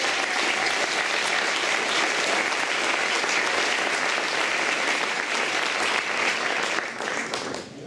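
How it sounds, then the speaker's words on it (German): A large audience applauds in a dense, steady wash of clapping that holds strong for nearly eight seconds, then thins slightly toward the end, welcoming performer Lukas Aue on stage. "Großen Applaus, hier ist Lukas Aue."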